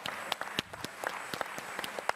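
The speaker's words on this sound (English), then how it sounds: "I think that's worth some applause" Sparse, scattered hand claps from a small audience at a San Francisco tech conference, several separate sharp claps spread over a couple of seconds, fairly faint and thin rather than a full ovation.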